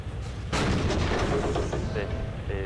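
A single heavy artillery gun fires in the Arma 3 military game, one loud booming report with a long rumbling tail, while radio-style voice chatter continues underneath.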